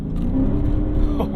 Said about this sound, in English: Give it a little acceleration here.